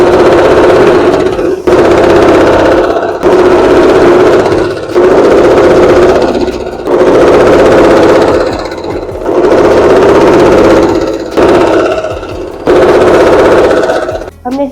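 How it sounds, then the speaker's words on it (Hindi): A sewing machine stitches a skin-coloured fabric belt onto a bedsheet made from old clothes. It runs in loud, repeated bursts of about a second and a half each, with short pauses between runs. "और ये जो स्किन कलर का बेल्ट है उसे इसे उल्टा रख के इस पर सिलाई लगाते जाएंगे।"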